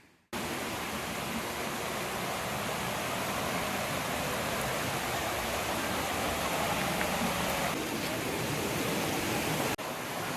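A natural spring in a Konkan village flows with a steady, full rush of water, constant and fairly close, with no pauses and no voices.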